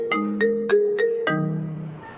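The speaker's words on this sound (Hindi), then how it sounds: "कब से फ़ोन बज रहा है, उठा क्यों नहीं रही है?" A phone ringtone plays a bright, melodic chime in quick repeated notes, clear and close with no talking over it.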